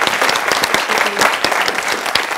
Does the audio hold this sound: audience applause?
yes